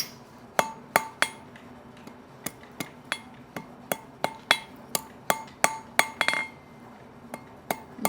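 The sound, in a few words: hammer striking steel drift at blacksmith anvil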